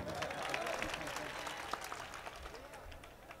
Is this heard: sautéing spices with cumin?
no